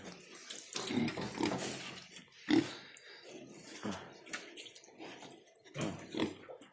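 Two-day-old piglets in a pen on deep bedding grunt and squeal in irregular bursts, close by, with soft rustling between calls.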